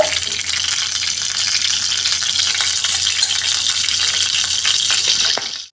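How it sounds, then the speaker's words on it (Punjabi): Desi ghee heating in a pan, a loud continuous hiss and sizzle running steadily before cutting off abruptly at the end, no voices. "ਇਹਦੇ ਵਿੱਚ ਮੈਂ ਦੋ ਚਮਚੇ ਦੇਸੀ ਘਿਓ ਪਾਵਾਂਗੀ"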